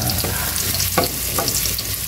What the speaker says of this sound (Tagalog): Unahin ang lutuin ang ating luya.